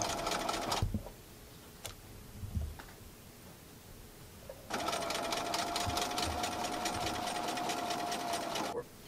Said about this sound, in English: now we've sewn both of our seam allowances at a 1/4 of an inch